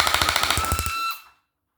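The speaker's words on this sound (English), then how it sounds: "let's get to a mag dump of this" A brushless HC Diana micro flywheel blaster dumps its magazine on full auto, a fast even stream of close, loud shots riding over a high motor whine that spins down after about a second.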